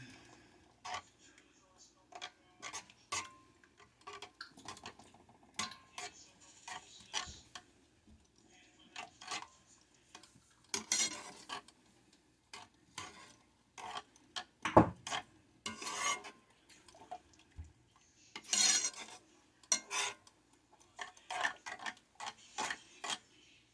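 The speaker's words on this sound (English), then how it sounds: "And I'm going to stir this up." Homemade spaghetti with pepper stirred in a pot, with faint scattered clinks, taps and scrapes of a utensil against the pot coming in uneven bursts, and some quiet talk in between.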